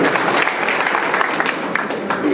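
A large crowd at a political gathering applauds a Rajya Sabha MP, producing a loud, dense, continuous roar of clapping that stays steady throughout.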